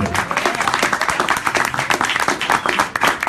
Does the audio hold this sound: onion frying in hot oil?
no